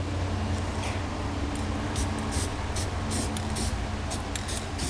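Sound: spray paint sprayed on bare metal of truck bed

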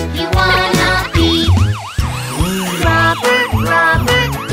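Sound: police car siren in a children's song

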